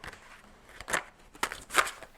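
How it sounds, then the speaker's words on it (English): Tarot cards are shuffled in short bursts, giving three or four quick, close, crisp riffling rustles separated by brief pauses. "these cards won't even let me shuffle"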